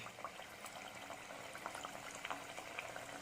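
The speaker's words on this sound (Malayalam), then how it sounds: "അപ്പോൾ നമുക്ക് ഇതിൽ നിന്ന് ഓരോന്നെടുത്തിട്ട് നമുക്ക് എണ്ണയിലേക്ക് ഇട്ട് നമുക്ക് വറക്കാനിടാം" Potato smileys deep-fry in hot oil with a faint, continuous bubbling sizzle and light crackles, heard quietly and without speech.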